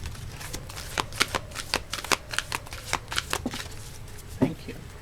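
Tarot cards being shuffled at close range, a run of crisp riffling snaps and flicks over about five seconds, with one louder slap near the end and quiet room tone underneath.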